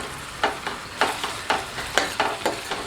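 Tomato and masala frying in oil for Indo-Chinese mushroom cabbage manchurian gravy, stirred in regular rhythmic strokes, each scrape rising over a continuous sizzle, close and moderately loud, no talking.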